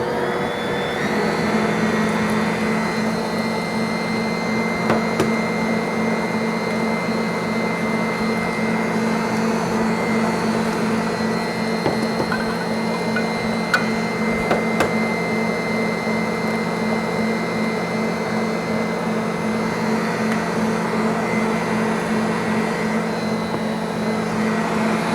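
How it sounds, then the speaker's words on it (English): An electric mixer whirs steadily through orange fruit cake batter, with a constant close motor hum and faint ticks from the beaters against the bowl, running alone without speech. "Okay, I'll turn my mixer back on."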